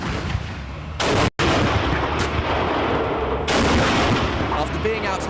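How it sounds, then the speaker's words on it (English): Tank guns firing in a series of extremely loud, booming blasts with rolling echoes, each shock filling the air over several seconds, heard close and without talk. "The noise from those guns is impossible to describe."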